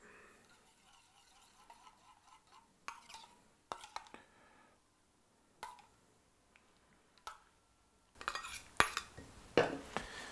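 Sauce is stirred into a watermelon dish with cutlery, producing scattered clinks and scrapes against a bowl, with quiet gaps between them and a denser burst of clattering toward the end.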